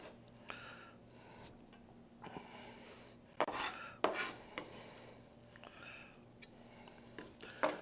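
A knife roughly chopping food, likely pickled onions, on a cutting board for homemade street tacos, with a few sharp faint taps and scraping rubs scattered over a quiet background.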